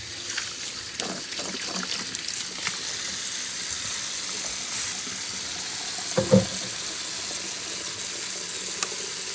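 Water running from a kitchen tap as hands are rinsed, a soft steady trickle and splash at low level, with a few light clunks, heard alone.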